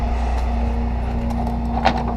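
Car keys jangle as they are pulled from a totaled rollover car, faint metallic clinks over a steady engine hum nearby, with a brighter rattle of keys near the end.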